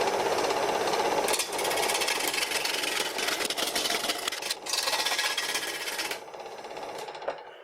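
A homemade wooden wood lathe under test runs with a loud, continuous rattling, vibrating mechanical roar that stays steady for several seconds, then drops abruptly and tails off near the end.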